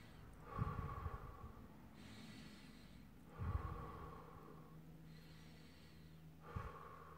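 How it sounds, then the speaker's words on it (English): Three deep breaths drawn in through the nose during a self-love spell ritual, each a loud sniffing inhale followed by a softer exhale, spaced evenly about three seconds apart, close up with no talking. "I'm just going to breathe in 3 times"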